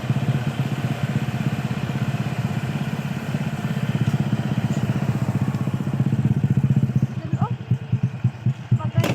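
A motorcycle rattles along an unfinished rough road, its engine a steady loud chugging drone with clattering bumps and jolts near the end.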